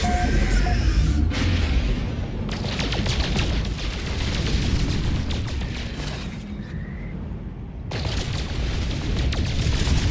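A spaceship warp jump in No Man's Sky plays as a loud, sustained booming rush that swells and surges for several seconds with whooshing breaks, dense low rumble throughout and no voices.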